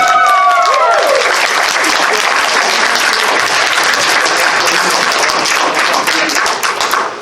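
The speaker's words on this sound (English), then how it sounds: "Can we get some wonderful applause?" Loud applause from a convention panel audience during a furry-convention mock debate, dense clapping sustained throughout with a few cheers mixed in near the start.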